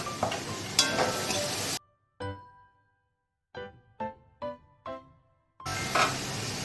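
Four green chillies hit a hot pan of turmeric-seasoned oil for a bottle gourd dish, giving a loud, hissing sizzle. The sizzle cuts out for a few seconds while bright ringing chime tones play, then returns just as strongly.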